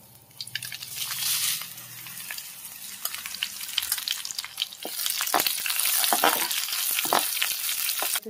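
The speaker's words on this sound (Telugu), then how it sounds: "నెక్స్ట్ వెల్లుల్లిపాయలు వేయించుకుందాం. మిరపకాయలు వేసుకుందాం." Garlic and chillies frying in a pan sizzle loudly and crackle near the microphone, the hiss swelling as the pieces land in the oil, with scattered pops and stirring scrapes.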